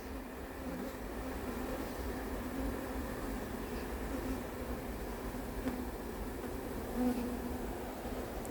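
A gathered swarm of honeybees at Varennes-sur-Seine buzzes in an even, low, unbroken hum that stays faint and constant throughout.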